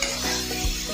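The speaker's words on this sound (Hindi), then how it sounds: "ये थोड़ा सा फ्राई कर लेंगे" A tomato and spice mixture sizzling in a pan for soya pulao, with a steady frying hiss and a soft stir scraping partway through, no voices.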